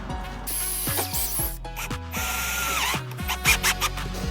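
A drill drives screws into a van roof while installing a Maxxfan vent, whirring in short bursts, stopping and restarting, with ratcheting clicks between the close, loud spins.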